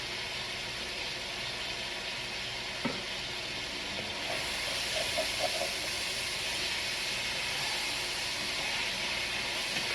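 Garlic hitting a hot pan for an eggplant pasta, giving a steady close sizzle and hiss that swells slightly after a few seconds, with a few small pops and a faint clink, no talking.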